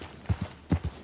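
Horse hooves clip-clop in Red Dead Redemption II, four distinct close thuds in two quick pairs, clear and alone against a quiet background.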